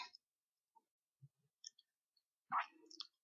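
Mouse clicks on the check button in printer resetter software for an Epson L555, a few short sparse clicks with faint ticks between them and a louder burst near the end, in an otherwise quiet room.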